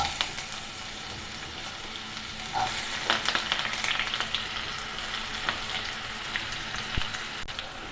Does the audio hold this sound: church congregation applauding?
no